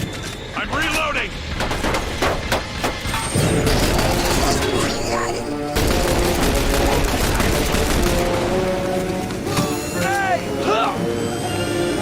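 Gunfire in The Bureau: XCOM Declassified, with sharp repeated shots and bursts in a loud combat scene, mixed with mechanical clatter and game music, while voices call out over the fight.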